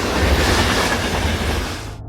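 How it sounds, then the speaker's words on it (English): Queensbound subway train pulling into a station, a loud continuous rumble with rattling wheels and screech-like hiss, steady throughout before cutting off abruptly. "When the Queensbound train pulled in"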